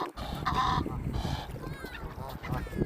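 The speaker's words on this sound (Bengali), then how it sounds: "এখানে আমার আশেপাশে প্রচুর প্রচুর হাঁস" Several ducks call out in honking, quacking bursts on a cold day, some near and some farther off, while a person talks over them.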